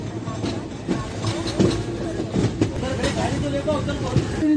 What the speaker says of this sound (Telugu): సో మన ట్రైన్ వాడి జంక్షన్కి చేరుకుంటుంది